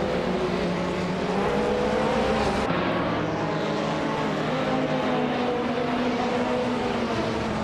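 Several race cars in a racing video game, including a KTM X-Bow GT4, a KTM entry, a Panoz and a Subaru, roar steadily around a tight-cornered track, with a continuous loud dense engine drone and layered overlapping tones and no talking.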